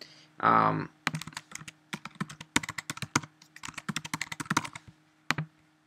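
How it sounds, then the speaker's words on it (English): Username and password being typed on a computer keyboard, a near, steady run of crisp key clicks in quick bursts with brief pauses, after a short voiced sound at the start. "so I have to type in the username correctly, pogo and password."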